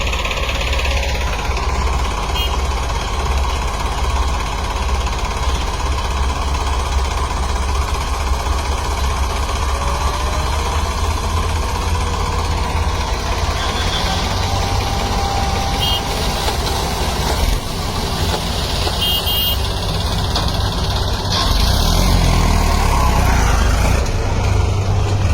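A tractor engine runs steadily throughout, a loud, continuous idling rumble with a faint voice over it.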